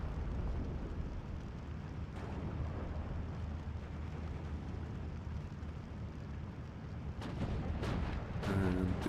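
Steady, low rumbling battle noise from a 49mm artillery gun in Steel Division 2, a continuous muffled roar with a few sharper bangs near the end, fairly faint and without speech.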